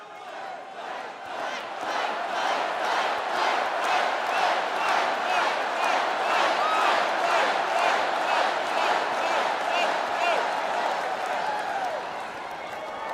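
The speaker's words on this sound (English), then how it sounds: "there you just saw the crowd chanting, USA, USA." A large crowd at the 2024 Republican National Convention chants in steady rhythmic unison, loud and sustained across the whole stretch, with cheering woven through it.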